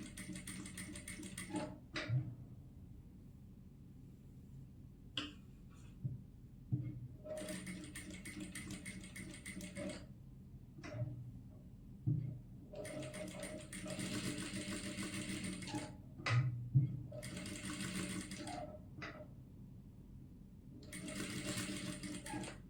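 Sewing machine stitching around the neckline of a kurti, close whirring runs of several seconds separated by quiet pauses and small clicks, fairly faint overall.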